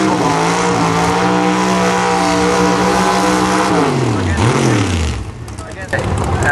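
Pro Mod drag race cars roar loudly on the track, among them a 1951 Chevy built by Montana Brothers: a sustained engine drone that drops in pitch as the run ends, then fades toward quiet, under an announcer's talk.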